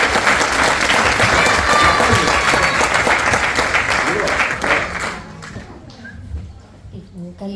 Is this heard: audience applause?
yes